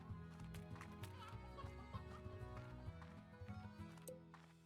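Chickens clucking in the video game Slime Rancher, faint scattered clucks over a steady tonal game backdrop, with no talk.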